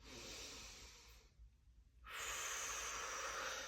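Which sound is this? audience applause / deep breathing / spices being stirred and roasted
deep breathing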